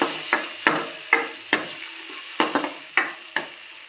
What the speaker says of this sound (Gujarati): આપણે સરસ રીતે બધું મિક્સ કરી લેશું.